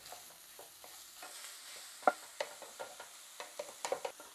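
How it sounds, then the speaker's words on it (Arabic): Onion and minced meat frying in a pan while being stirred, with a soft continuous sizzle broken by scattered scraping clicks and a few sharper stirring knocks close by. "قلينا البصلة رح ننزل كمان 200 جرام من اللحم المفروم ويكون مدهن شوي ونقليهم كمان معهم"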